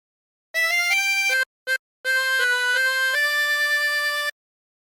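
A 24-hole tremolo harmonica plays a phrase of Home on the Range, with clear wavering reedy notes in a short run, a brief gap and a blip, then a longer held passage ending cleanly into silence.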